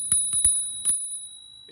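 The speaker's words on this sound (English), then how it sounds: "I love this bell, look at this." A few crisp rings from the handlebar bell of a Himiway Cruiser fat tire eBike: three quick strikes, a pause, then one more, close and clear with a ringing tail and no talk over it.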